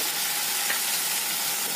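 Ground spice paste of cumin, coriander, ginger, garlic and chilli fries in hot oil for a Bengali chicken curry, giving a steady, moderately loud sizzle that hisses evenly throughout with no voices over it.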